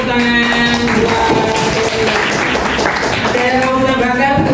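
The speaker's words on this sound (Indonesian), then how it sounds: "tepuk tangan buat" A classroom of students claps for a classmate during a religious education lesson on love of the homeland. The steady, loud applause fills the whole moment, with voices talking over it.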